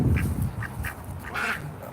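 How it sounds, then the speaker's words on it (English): Noel, a daily laying duck, quacking in several short nasal bursts over a couple of seconds, close by, with outdoor background noise and no talk. "Noel is a daily laying duck."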